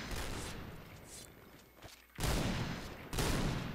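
Gunfire in the shooter video game Point Blank: bursts of shots and rattling fire, loud at the start, dipping briefly, then returning in dense heavy volleys.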